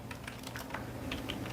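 Someone types a search query on a computer keyboard in a quick run of light, close key clicks over a steady background hum.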